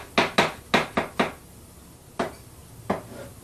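A knife on a cutting board chops mushrooms in quick, sharp taps: a fast burst of five, then two more spaced-out knocks, close and fairly quiet.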